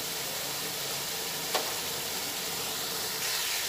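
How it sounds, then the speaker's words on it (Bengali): Eggplant with kasundi fries in a pan over a lowered gas flame, giving a soft, steady sizzle with a faint clink partway through and no voices. "এবার গ্যাসের ফ্লেমটা একটু কমিয়ে নিয়ে আস্তে আস্তে এটা ভেজে নেব।"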